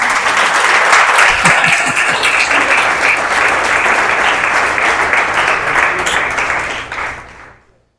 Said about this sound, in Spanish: Aplauso al Señor por ella.